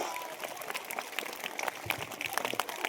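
Students clapping in a secondary school hall during a motivational talk, a crowd of scattered, uneven claps with sharper individual hand slaps standing out over a rough background hubbub.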